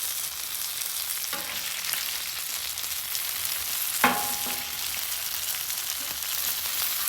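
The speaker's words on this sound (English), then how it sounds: "just keep rotating them, cook that bacon all the way through" Bacon frying on a flat top grill gives a loud, dense, continuous sizzle, with an occasional brief scrape of a spatula as the strips are turned, and no talk.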